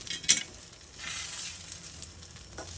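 Ground coconut paste sautéed in a pan for Chettinad-style paal kozhukattai, giving a soft, steady sizzle with faint scraping stirs, one brief sharper clink near the start, with no talking.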